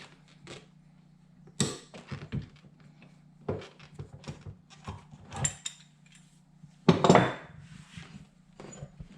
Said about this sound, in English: I'm going to actually take the pipe clamp off because I want to get it out of my way